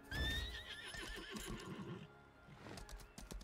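A horse in the video game Lost Ark whinnies loudly with a shrill, wavering cry, followed by a few hoof clops and soft thuds; no talking.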